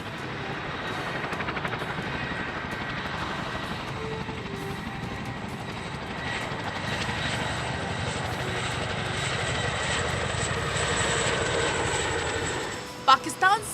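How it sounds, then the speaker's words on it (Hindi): Indian Air Force fighter jets flying near the Line of Control make a loud, continuous engine roar that swells slowly and holds for the whole stretch, with a couple of sharp bursts at the end. "आसमान में हिंद का दम, एलओसी पर गरज रहे फाइटर जेट।"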